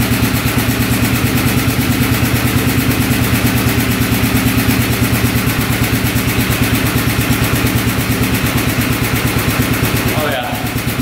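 A rare floating ATV's engine runs at a steady idle after the key is turned, its mid-pitched exhaust chugging in a fast even rhythm close by and loud throughout, with a brief clatter near the end.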